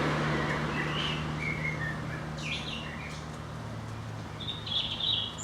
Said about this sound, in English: Nice accompaniment of blackbirds as well, and a robin